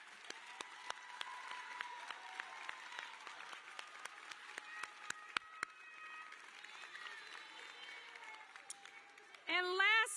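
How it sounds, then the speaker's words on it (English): Graduates' families and guests at a high school graduation ceremony clap in sustained, fairly distant applause with scattered sharper individual claps, and voices rise briefly near the end. "So join me in giving them a round of applause because they've made it."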